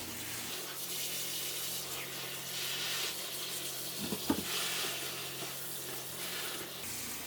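Warm tap water runs steadily over frozen shrimp in a sink, a soft, even hiss of flow with a couple of brief splashy knocks midway and no talking.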